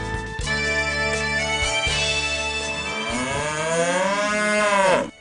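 Dairy cows give one long, deep moo that rises and swells into a drawn-out bellow, loud and close, heard alone without talk.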